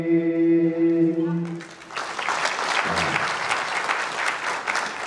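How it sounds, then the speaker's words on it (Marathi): An audience at an award ceremony in Karad, held for the Sahityaratna Annabhau Sathe birth anniversary, breaks into loud, sustained applause that continues to the end, right after a brief stretch of sung or musical tones. "मनापासून तुम्ही टाळ्या वाजवताय"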